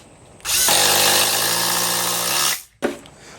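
A Ridgid impact driver sinks a 4.5 inch GRK screw, one loud, close, continuous whirring drive of about two seconds, followed by a brief click and short final burst.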